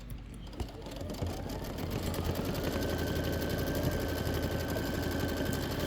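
An embroidery sewing machine stitches background quilting on a Christmas ornament quilt block, with a continuous fast mechanical whir and needle chatter that stays steady and close with no talking.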